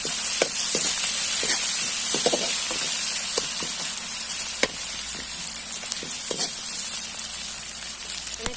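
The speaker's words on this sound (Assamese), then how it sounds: "তেজপাত দিছো তেলতে" Spices and bay leaf frying in oil in a pan, giving a continuous close sizzle dotted with sharp crackles and pops throughout, no speech present.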